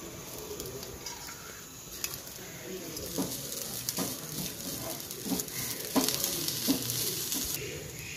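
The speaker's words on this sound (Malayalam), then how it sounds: "ഒരു പാൻ ചൂടാക്കി അതിലേക്ക് നമുക്ക് ഇതെല്ലാം ഇട്ടിട്ട് ഒന്ന് മൂപ്പിച്ചെടുക്കാം" Grated coconut, shallots and whole spices such as clove, fennel, cardamom and pepper roasting in a hot pan, a soft continuous sizzle with repeated scraping stirs, fairly faint and close.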